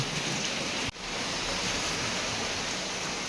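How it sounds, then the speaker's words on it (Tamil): Heavy cyclone rain from Fengal pours down in a dense, continuous hiss, loud and unbroken apart from one brief dip. "அதுதான் மழை பெய்யறது"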